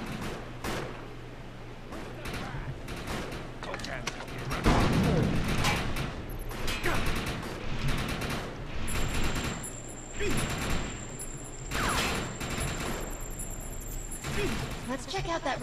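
Gunfire in the video game Defiance, repeated bursts and sharp shots of varying loudness scattered through the stretch, mixed with game effects and occasional voices.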